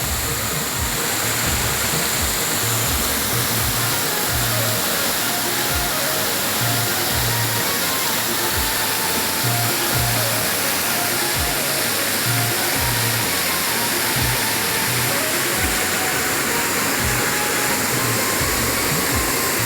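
The Tivare Gangechiwadi waterfall in Konkan roars as a loud, steady wash of falling water, dense and unbroken from start to finish, with no voices.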